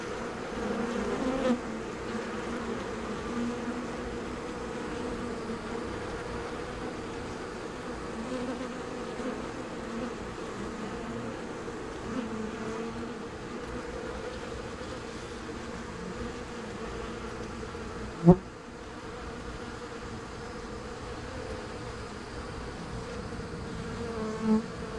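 A small honey bee swarm being caught and moved onto brood frames hums steadily and close for the whole stretch, with one brief knock partway through.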